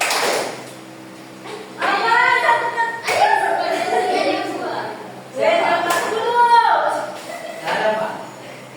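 Primary-school pupils in a classroom do a rhythmic clapping pattern, bursts of two claps repeated several times, mixed with a teacher's and children's voices and chatter throughout.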